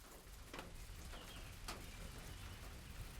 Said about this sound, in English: While it rained like this.